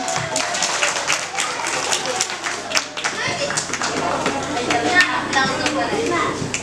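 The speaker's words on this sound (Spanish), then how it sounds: "Aplauso para él." Students and guests applaud a student at a school farewell in Río Oeste Arriba, a scattered burst of hand clapping with children's voices and talk mixed through it.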